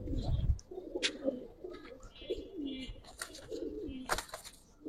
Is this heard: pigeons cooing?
yes